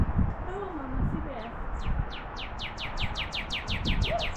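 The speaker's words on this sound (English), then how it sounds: "Hey, pretty bird." A bird calls in a series of rising chirps that speed up into a rapid repeated trill, fairly clear over someone speaking softly and a low outdoor background.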